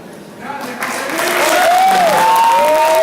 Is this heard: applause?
yes